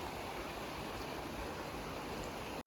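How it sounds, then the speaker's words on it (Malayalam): River water streams steadily over rocks along a forest riverbank in Vagamon, a continuous broadband rush holding even throughout, close and fairly loud, with no voices. "കല്ലിൽ കൂടെ വെള്ളം ഇങ്ങനെ ഒഴുകി വരുന്നതാണ്"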